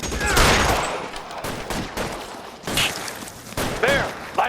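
Gunfire during a shootout in the video game L.A. Noire: heavy, continuous volleys of shots with echoing cracks and ricochet-like effects, loud and close, with brief shouting from game characters.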